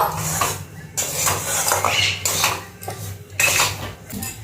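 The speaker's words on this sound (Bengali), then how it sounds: "এবার ভালো করে নাড়াচাড়া করব" A spoon stirs semolina with chopped cashews and raisins in a pan, scraping and clattering against the metal in repeated close, loud strokes with brief pauses between them.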